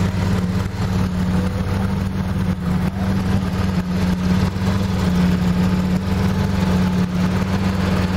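Porsche GT3 RS and Lamborghini Aventador engines idling together with valves open, a loud, steady, deep rumble throughout, close by with no clear revs.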